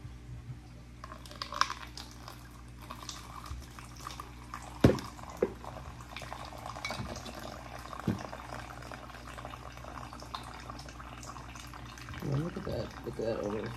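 Water bubbling and trickling through the overflow of a betta fish tank makes a steady, quiet burble, with occasional small plops and taps, while a person talks nearby.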